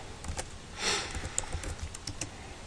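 Typing on a computer keyboard, with quick irregular clicks of keys close by, faint and without talk.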